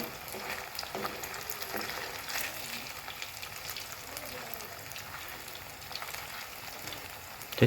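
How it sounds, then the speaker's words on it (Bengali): Bengali pitha fry in hot oil with a steady, dense sizzle and crackle, continuous throughout at moderate closeness, with no talking over it. "আমি এগুলোকে এখন ভালো করে ভেজে নেবো"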